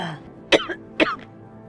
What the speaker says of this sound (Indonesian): udah batuk-batuk ya